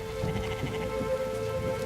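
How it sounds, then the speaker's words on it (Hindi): Steady rain falls by a lake, a dense even patter on surfaces with no break across the short stretch, fairly loud and close, with no voices. "आज बारिश हो रही है, ध्यान से रहो।"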